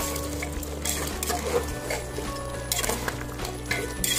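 Mutton is stirred and fried with meat masala for a mutton biryani. A continuous low sizzle sits under repeated scraping and the clink of a metal spoon against the pot, up close.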